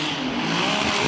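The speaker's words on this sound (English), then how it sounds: "Just a unique sounding exhaust." Formula Drift car at the Wall 2018 qualifying, a unique-sounding exhaust at speed on track, loud and sustained with tire squeal mixed into the steady engine roar.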